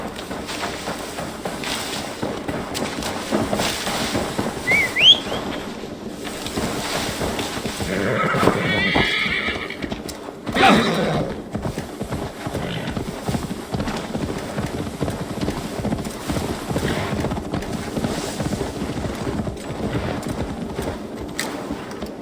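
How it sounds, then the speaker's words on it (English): Steady clip-clop of horse hooves throughout in Assassin's Creed Valhalla, with a couple of loud whinnies partway through, over wind-like background noise. "Now to deliver Magni his horse."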